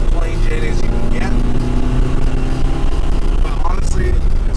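1976 Alfa Romeo Alfetta GT being driven, a close, steady engine hum and road rumble from inside the cabin with a few brief whooshing sweeps, with someone speaking over it.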